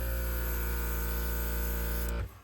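A beginner airbrush kit's compressor runs with a loud, steady electric buzz and hum, then cuts off abruptly near the end, leaving a brief quiet click.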